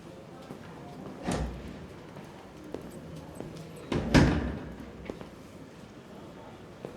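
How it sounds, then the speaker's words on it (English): Two door thuds sound inside the video game Detroit: Become Human, a firm knock-like close early and a louder slam a few seconds later, with quiet room tone and a voice speaking between them. "Close the door on your way out."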